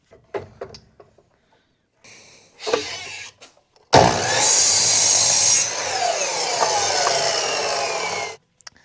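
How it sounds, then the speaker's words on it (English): A short 4-inch piece of 2x4 is cut at a 15-degree angle with a power saw. A few knocks and brief bursts come first, then a loud, steady cutting whir lasts about four seconds before stopping abruptly. "you're going to need to get about a 4-inch piece of 2x4 and cut it at about a 15-degree angle"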